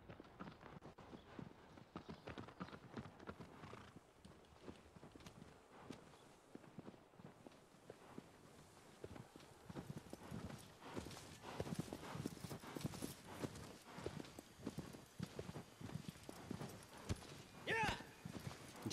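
Horse hooves clip-clop steadily in the video game Shadow of the Colossus, a continuous rhythmic clatter of steps running under a voice talking over it.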